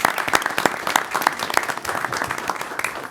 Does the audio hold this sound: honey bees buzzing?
no